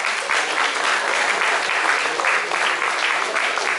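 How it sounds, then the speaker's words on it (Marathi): An audience at a cultural program claps for itself in steady, dense applause that holds at an even level throughout, many hands together filling the room. "एकदा जोरदार टाळी स्वतःसाठी तर वाजवाच"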